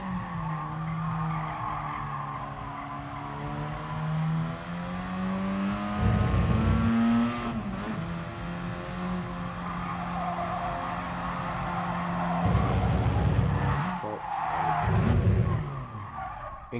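A race car in a racing video game, driven at Tsukuba with uncontrollable oversteer, screeches its tires in a long, wavering skid while the engine drones and revs steadily close by throughout.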